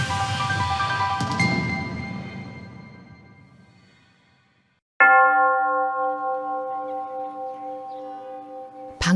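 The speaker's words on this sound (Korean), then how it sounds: "방금 베들레헴의 예수 탄생 기념 성당 종소리가 그치고" Church bells of the Church of the Nativity in Bethlehem ring loudly with rich overtones, then slowly die away to near silence before a fresh, sustained bell-like tone strikes up again, pulsing gently.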